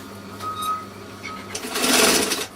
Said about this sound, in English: I'm just going to run one stitch right the way around the neck